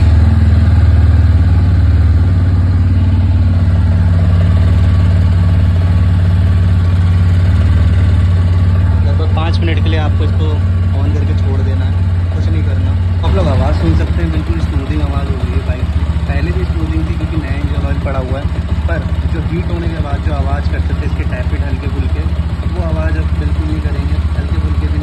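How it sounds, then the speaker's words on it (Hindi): A TVS Apache 200 BS6 motorcycle engine, treated with Abro oil additive, runs at idle with a loud, steady, close low rumble throughout, while someone talks over it. "अब इसको स्टार्ट करते हैं बाइक को"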